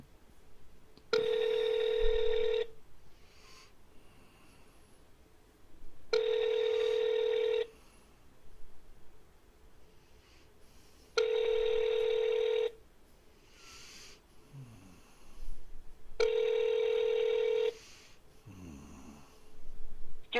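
A telephone ringback tone while a call connects: four long, even rings spaced at regular intervals, with quiet faint background sounds in the gaps between them.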